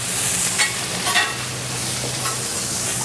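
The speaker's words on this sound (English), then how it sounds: "And we want to cook this in the oil." Vegetables and tofu stir-fry in hot oil with toasted dried chillies, a steady sizzle with scraping stirring strokes and a few louder bursts, no voices.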